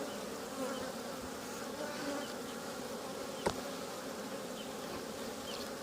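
Dense, continuous buzzing of many honey bees swarming close by at an open double-story beehive, steady and humming, with one brief sharp knock midway.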